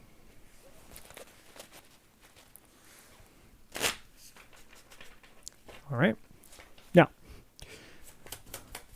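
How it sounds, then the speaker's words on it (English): A brand-new deck of cards is shuffled nearby in short rustling bursts, a couple of sharper riffles standing out, while a person talks over it. "Give it a shuffle here."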